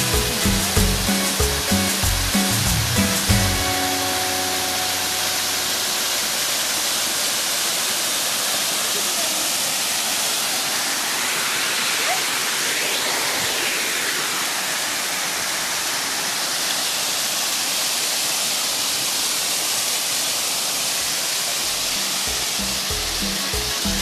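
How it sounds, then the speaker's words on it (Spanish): Waterfall at El Puerto Nacional in Tlachichuca, Puebla, Mexico: a steady, broadband roar of falling water fills the scene at constant loudness, with brief voices and some clatter at the start before the water sound continues alone. "Por último, pues les vamos a mostrar esta hermosa cascada."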